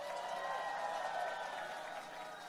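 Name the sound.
audience applause at a campaign rally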